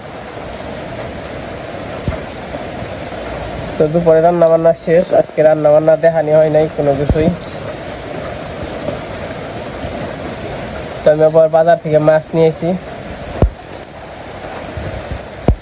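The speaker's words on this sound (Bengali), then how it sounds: "খুবই সুন্দর বৃষ্টি হইল" Steady rain falling in a village on a hot day, a continuous even hiss of drops throughout, partly under someone talking in bursts.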